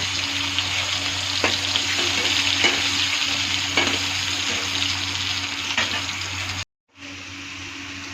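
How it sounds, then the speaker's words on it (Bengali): Potato chunks frying in a pan with a close, steady sizzle and occasional stirring clicks, ending in a brief silence before the frying resumes. "দেখো আমি আলুটা ভাজা ভাজা করছি।"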